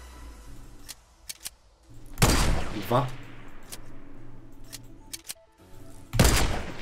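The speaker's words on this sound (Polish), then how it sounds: "Snajperka AWP złota." A golden AWP sniper rifle fires in a video game: two loud, sharp shots about four seconds apart, with lighter mechanical clicks between them and a voice briefly speaking.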